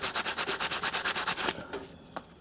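Rapid, rhythmic abrasive scrubbing cleans the brake pad contact surfaces on an Acura TL's parking brake, about a dozen even strokes up close, then a few lighter rubs and a small knock.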